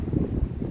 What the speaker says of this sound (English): I just kind of want to share with you the wind.